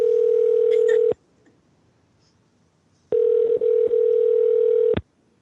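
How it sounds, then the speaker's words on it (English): Steady phone tone during an outgoing call sounds loud and near for about a second, stops for two seconds, then returns for another two seconds with brief faint clicks in it. "We're trying to reach Kevin via phone because it's not picking up via Skype"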